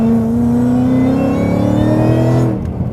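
A VMP supercharged Ford Mustang GT V8 pulls hard at three-quarter throttle, a loud steady engine drone with supercharger whine that rises gradually in pitch over three seconds before easing off, heard from inside the car.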